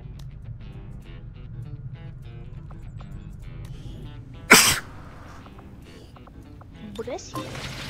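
A single loud, sudden sneeze bursts out midway through quiet XCOM game ambience with faint tones and background sounds, then fades back to the low hum.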